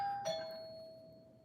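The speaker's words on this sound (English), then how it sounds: "It is too early for a doorbell." A doorbell chimes once indoors, a clear electronic ding whose tone rings on and slowly fades, with no talking.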